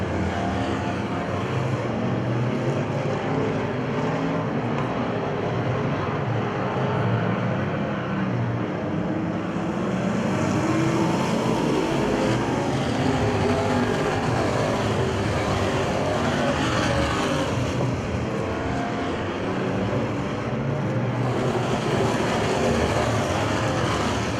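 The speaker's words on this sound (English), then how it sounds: "Wilson, Grabe, and DeJong as they head down into turns 3 and 4." Race cars roar through turns 3 and 4 of a short oval track, a continuous broad engine drone that swells and fades as the pack passes, with a public-address announcer faintly audible underneath.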